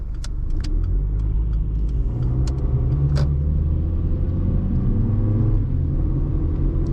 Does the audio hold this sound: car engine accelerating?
yes